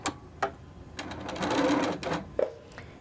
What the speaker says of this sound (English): I'm just going to fold them over, nest the seams, and sew them together.